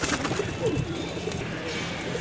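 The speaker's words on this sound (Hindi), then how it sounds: "बहुत ही शानदार कबूतर, बड़ा कबूतर है" Lal dumma pigeons coo softly in a few low, throaty bursts over a faint background hum.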